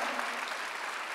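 A church congregation claps together during a Sunday worship service, a dense, steady wash of applause filling the room evenly for its whole short length.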